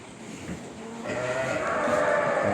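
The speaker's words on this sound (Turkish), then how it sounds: "Bakın aha kangal kuzularım." Kangal lambs in a fattening pen bleat on a farm, with overlapping close, moderately loud calls that grow stronger partway through and continue without speech.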